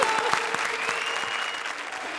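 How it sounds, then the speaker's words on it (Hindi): Studio audience on a comedy show gives loud applause for Kapil and Parvati after a qawwali act, dense sustained clapping with a few sharp individual claps standing out, no speech over it. "जोरदार तालियां कपिल और पार्वती के लिए"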